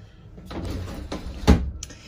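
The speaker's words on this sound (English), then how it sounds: "That door does slide back." Glass shower door on a used 1999 Mid South two-horse weekender trailer slides along its track, a short rumbling glide ending in a louder knock, close by with no talk.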